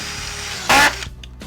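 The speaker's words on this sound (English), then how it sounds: "I'm going to show how the corner fit works by driving a screw very close to an inside corner" A Senco DuraSpin screw gun drives a screw into drywall right beside an inside corner. One loud, close whir lasts about a fifth of a second, then a brief click and faint rattle follow over low background hum.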